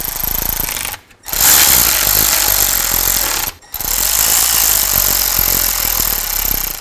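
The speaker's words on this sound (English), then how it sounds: "I'm just going to snug these down before I torque them down." A power tool snugs bolts on a rear axle of a 2000-2006 Chevy Tahoe during an axle shaft, seal and bearing replacement. It makes loud, continuous rattling hammering bursts, with two brief pauses between runs.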